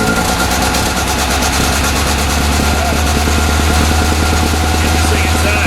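A 1974 Ford Capri engine running steadily just after starting, loud and close with a constant low rumble and rapid firing pulses, left outdoors in the cold, no talk.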